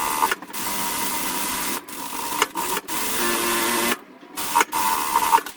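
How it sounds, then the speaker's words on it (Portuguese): A sewing machine runs in steady buzzing bursts while stitching a seam on a reversible adjustable apron, pausing briefly several times between runs, close and alone. "eu vou passar uma costura nesse traço e nesse traço."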